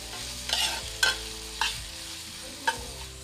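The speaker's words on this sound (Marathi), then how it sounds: "तर आता आपण कांदा आणि मिरची छानशी परतवून घेऊया." Onion and green chilli sautéing in a pan, a soft steady sizzle broken by a few distinct spatula scrapes and taps at irregular intervals.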